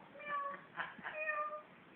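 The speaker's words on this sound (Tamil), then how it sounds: "மியாவ்" A cat meows several times in quick succession, its drawn-out, tonal cries heard close and clear against faint background noise.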